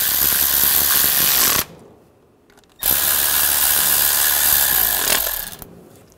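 Tightening bolts on the knock sensor of a 2006-2009 Mercedes-Benz E350 3.5L V6 with a power tool, two loud whirring bursts separated by a short quiet gap, close up with no talk.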